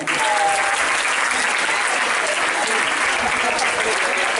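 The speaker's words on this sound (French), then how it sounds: "Je voudrais que vous l'applaudissiez" Audience at a school end-of-year party applauds a pupil who won academic championship medals; loud, continuous clapping fills the room from start to finish, with some voices underneath.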